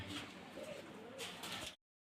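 Soft, low pigeon cooing near the mic for under two seconds, muffled and steady, then cutting off abruptly into silence.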